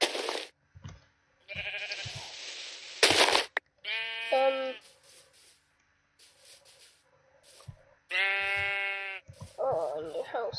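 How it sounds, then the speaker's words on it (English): Sheep in the video game Minecraft bleat in several distinct calls, loud and close, separated by gaps and other game sounds. "Oh, shut up, sheep!"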